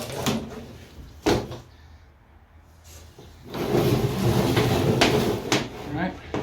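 A handmade wooden barn door is slid into place in a woodworking shop, giving a short knock and then a sustained rough scraping rumble over its last few seconds, with a person talking nearby.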